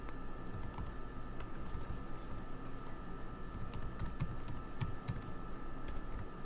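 Python code being typed on a computer keyboard, a quiet run of irregular key clicks over a constant low electrical hum.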